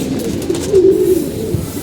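Pet pigeons coo close by, a soft low throaty burble rising in the middle against a quiet background.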